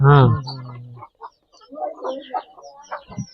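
On a farm where country chickens are raised alongside sheep, a rooster gives a loud, close cluck at the start, then fainter fowl sounds mix with people talking.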